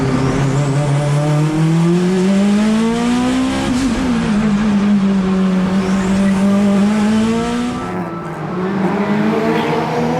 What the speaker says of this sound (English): I'm very thankful to Robbie and the team for letting me have a shot at this Mitsubishi Evo.